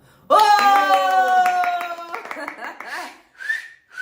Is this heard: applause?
yes